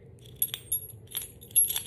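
Camper keys on a vintage keychain jangle softly and close by, several bright metallic clinks in quick clusters against a quiet background.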